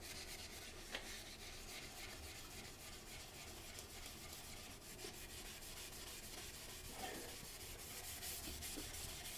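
A scrubbing pad rubs against a porcelain toilet bowl to buff out scratches, a steady, faint abrasive scouring with no talk.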